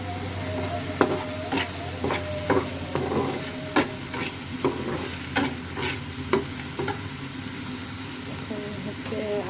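Meat for momo frying in a pan with steady sizzling, punctuated by repeated sharp scraping stir strokes of a utensil at an uneven rhythm, close and moderately loud.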